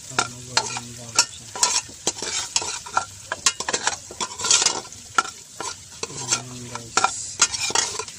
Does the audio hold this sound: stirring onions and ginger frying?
yes